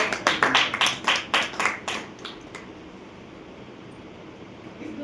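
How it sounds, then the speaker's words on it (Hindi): A seminar audience claps in a burst of loud, fairly regular rhythmic claps that stop after about two and a half seconds, leaving quiet room noise behind. "तो एक बार जोरदार तालियों के साथ आज की जानकारी"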